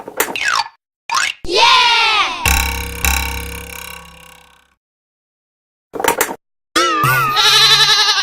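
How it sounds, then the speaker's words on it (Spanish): A goat bleats loudly and close by in a few wavering, nasal calls separated by brief silences, with other animal-like cries around them. "Cabra."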